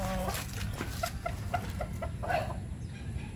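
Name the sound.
rooster clucking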